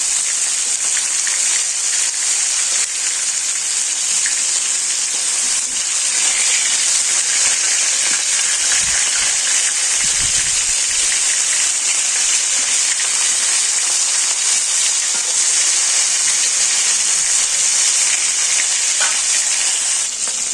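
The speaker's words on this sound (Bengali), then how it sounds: "মাছ ভাজা হয়েছে" Tilapia sizzles and crackles in hot oil, a constant bright frying hiss lasting the whole stretch, with a few soft clinks of a utensil.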